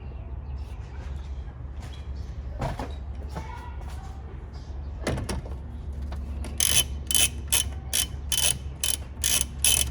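Ratchet with a 10 mm socket working loose an airbox bolt on a Volvo C30 T5, heard as a burst of rapid, close metallic clicks in the last few seconds over a low steady rumble.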